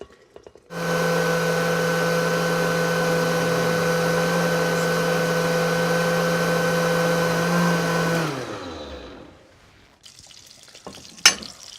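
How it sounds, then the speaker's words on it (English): A blender purees butternut squash, apples and sweet potatoes in a kitchen with a loud, steady motor whine that runs about seven seconds, then winds down and stops, followed by faint clatter. "just in a blender right there."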